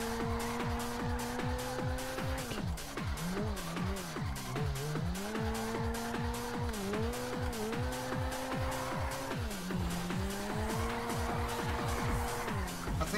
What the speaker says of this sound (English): Turbo kicks in there, doesn't it?